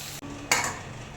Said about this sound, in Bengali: এই যে চিংড়ি মাছটা ভাজা হচ্ছে